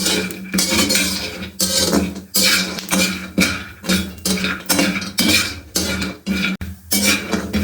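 Pistachios, almonds and cashews roasting in a pan, with repeated loud scraping and clattering from stirring in steady bursts, near and close to the pan.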